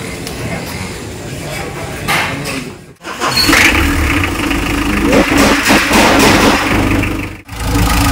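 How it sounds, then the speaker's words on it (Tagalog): The engine of a customized Mitsubishi L300 FB van cranks and turns over, then settles into a steady rumbling idle, with a brief drop in sound partway through before running on. "Papaanda rin na daw po yung makina."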